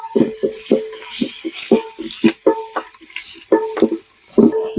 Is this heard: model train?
no